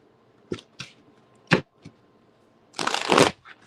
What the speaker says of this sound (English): let me just shuffle two more and then we're gonna get going